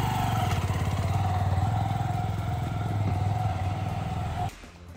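A 135 kg motorcycle engine revs steadily and loudly up close as the clutch is eased out, holding a constant throttle drone before cutting off abruptly near the end.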